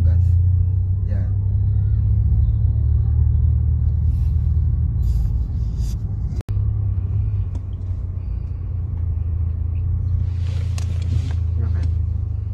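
Car engine idling and running steadily through a manual driving lesson with clutch and gas work, a continuous low rumble throughout, with an instructor's voice speaking over it.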